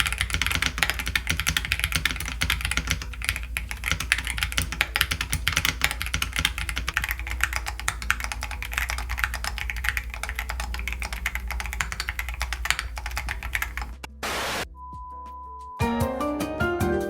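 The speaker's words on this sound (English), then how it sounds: "we have a typing test, even though I kind of look like a fool typing on the Q14 Max" A Keychron Q14 Max keyboard is typed on rapidly and continuously for about fourteen seconds, dense clacking keystrokes close up, then a brief gap and a short electronic tone.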